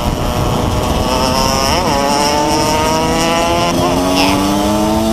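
A Yamaha RD 135 two-stroke motorcycle runs close by, its engine droning with a rising and falling buzzy pitch as it revs and shifts, loud and steady throughout.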